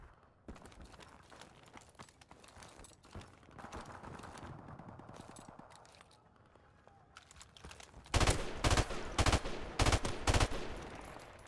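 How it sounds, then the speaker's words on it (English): Bursts of M16 rifle fire in Modern Warfare Remastered, a video game: scattered shots early on, then loud, rapid clustered volleys near the end, with no talking. "Guess I'll use the M16."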